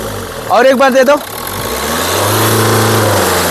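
Close by, a 2019 Renault Duster RXZ AMT engine runs after a brief burst of talk, then settles into a steady, rising drone as it is revved.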